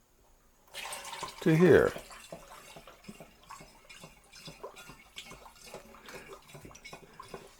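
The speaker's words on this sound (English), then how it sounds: "The fact that it's gurgling like that, incorporating some oxygen into the mix, is actually a good thing." Homemade ginger wine gurgles and splashes in a brief, louder burst as it is transferred between containers, then settles into quiet trickles and scattered drips.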